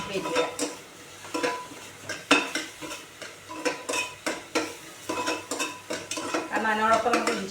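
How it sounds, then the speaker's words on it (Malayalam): Onions frying with ginger-garlic paste in a pan for Mumbai-style pav bhaji, with repeated scraping and stirring strokes against metal over a steady low sizzle; no talking. "ഉള്ളി ഒന്ന് ചെറുതായിട്ട് മൂത്ത് വരുന്ന വരെ നമുക്കത് വെയിറ്റ് ചെയ്യാം"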